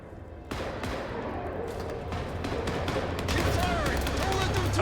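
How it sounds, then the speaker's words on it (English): Rapid bursts of gunfire crackle continuously amid a dense, noisy soundscape in the game Vampire: The Masquerade – Bloodlines 2, growing louder toward the end with a low rumble beneath. "Gunfire."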